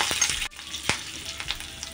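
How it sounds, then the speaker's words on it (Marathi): Garlic, ginger and chilli frying in a couple of spoons of oil, a soft steady sizzle broken by a few quick stirring clicks and scrapes. "आता आपल्याला हे लसूण, आलं आणि मिरची घेतली आहे, ते भाजून घेऊया।"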